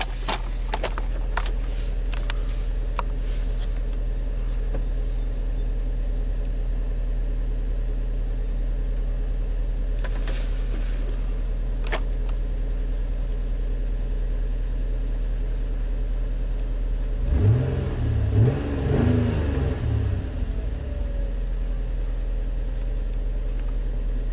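A Nissan engine with a misfire under load idles with a steady low rumble, then briefly revs up louder for a few seconds before settling back to idle.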